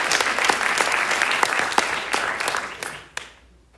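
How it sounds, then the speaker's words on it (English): Applause from an audience at a college staff-of-the-year awards ceremony for a nominee, dense and sustained clapping that fills the room for about three seconds before quickly fading out. "We can go ahead and give her a round of applause."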